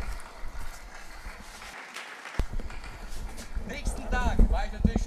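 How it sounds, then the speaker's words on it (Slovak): An audience applauds a priest at a youth festival: a steady wash of clapping from a large crowd fills the space, and voices and speech rise over it toward the end. "Jeden potlesk pre Pátra Slavka, on je tu medzi nami."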